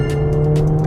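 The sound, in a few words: Mercedes-AMG A45 S hot hatch driving through corners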